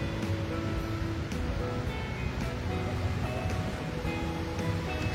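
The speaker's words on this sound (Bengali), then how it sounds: "সমুদ্রের জল এসে ধাক্কা খাচ্ছে" Sea waves at Mandarmani beach wash in steadily and crash onto the shore, a continuous, fairly loud rush of surf with no clear breaks.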